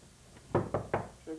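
Three firm knocks on a front door on Halloween night, evenly spaced and close by, with a brief voice murmur just after.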